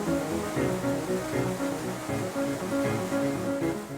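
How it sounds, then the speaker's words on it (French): Stream water pouring onto the wheel of a working paper mill in the Puy-de-Dôme, a dense steady rushing and splashing with churning low tones, close and continuous, with no voices. "L'eau du ruisseau va tomber sur la roue du moulin et va la faire tourner"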